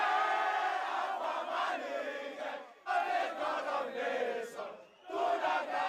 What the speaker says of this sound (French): Une foule en liesse devant le palais présidentiel